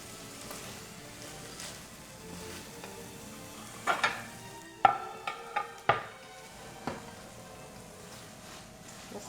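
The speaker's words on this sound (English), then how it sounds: "I can turn off the stove and just stir them around" Food in a pan on a just-switched-off stove is stirred around, giving a soft steady sizzle broken by several sharp utensil clicks and scrapes against the pan, close and unaccompanied by talk.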